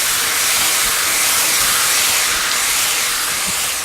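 About an ounce of white wine hits a hot pan with turkey schnitzel pieces, producing a loud, steady sizzling hiss of bubbling and reducing liquid that stays constant throughout, close and alone.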